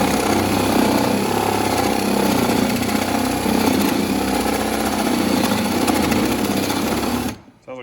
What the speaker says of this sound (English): I just want to get this one hole drilled.